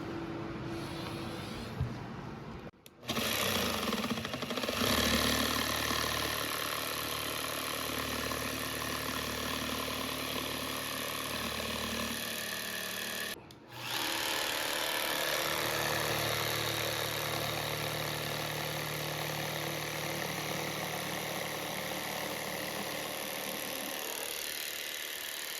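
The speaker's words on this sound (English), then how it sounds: "we're gonna use the jigsaw." Jigsaw cutting wood for a small chair side table, a loud, steady buzzing drone close by that runs almost unbroken, with two brief pauses.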